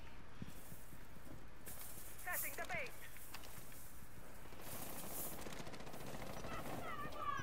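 Gunfire in the video game Rainbow Six Siege comes as a few sharp bursts of shots, some distant and muffled, scattered over a low background.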